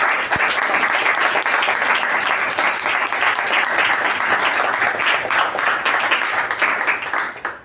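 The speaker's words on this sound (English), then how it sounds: "he deserves a double thunderous round of applause." Loud, sustained round of audience applause at a Toastmasters meeting, crisp claps from many hands close by, steady throughout before trailing off at the end.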